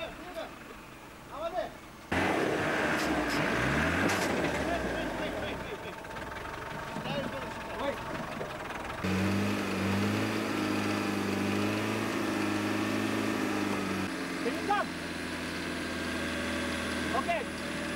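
Rally car engines driving through rough bush terrain in Kenya, a droning, shifting motor roar with revving swells and abrupt changes, running under steady narration.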